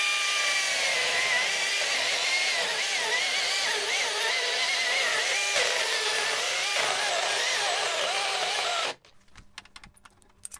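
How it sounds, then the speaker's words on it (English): Loud, continuous buzzing whine of a chainsaw cutting steadily down a green log, then cutting out abruptly, leaving faint clicks and quiet background. "I'll just go down that with a chainsaw"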